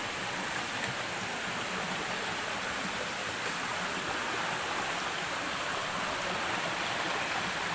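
Water rushing strongly from a waterfall and along a forest stream, a loud, steady, close roar with no talking.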